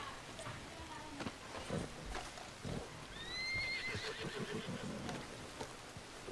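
A horse whinnies partway through over pattering rain and scattered clip-clop thuds in the video game Red Dead Redemption 2, fairly quiet and a little distant.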